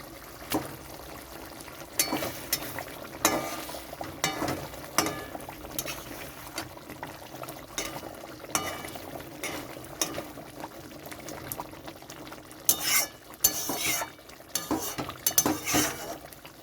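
Pieces of bhola fish go into a simmering curry in a pan, with bubbling and sizzling under scattered spoon clinks and stirring scrapes. A livelier burst of clatter comes near the end.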